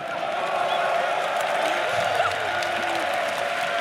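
A large arena crowd at The International 2024 Dota 2 championship applauds and cheers as a steady, fairly distant wash of clapping and voices throughout.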